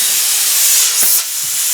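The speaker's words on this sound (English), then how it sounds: "this is just the air coming out of the compressor end, right?" Compressed air hisses steadily out of an air compressor hose end, a loud continuous broadband rush with a brief dip near the end.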